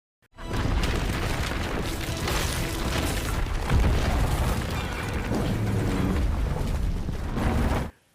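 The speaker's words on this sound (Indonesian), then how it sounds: "Dan akhirnya bom itu meledak." A bomb explosion erupts into a long, loud, sustained roaring boom that rumbles steadily for several seconds before cutting off abruptly.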